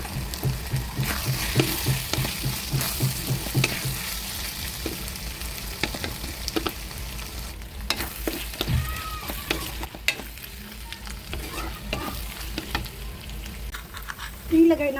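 Hotdog sausages fry in a pan with a steady crackling sizzle and occasional stirring scrapes, while a person talks now and then over the cooking.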